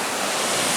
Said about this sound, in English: we're crossing the river here